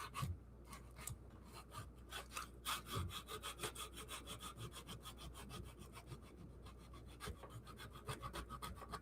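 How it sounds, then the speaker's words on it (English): Hand sandpaper scrubs back and forth over a putty-filled area on a model layout, a steady rhythmic rasping of quick strokes, close and fairly quiet, with no talking. "You got to work with your sandpaper too, right?"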